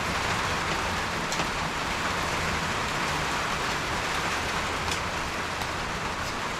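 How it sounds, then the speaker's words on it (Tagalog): Heavy rain pours steadily in the Philippines, a dense, loud, unbroken hiss with no pauses or voices. "ang lakas ng ulan"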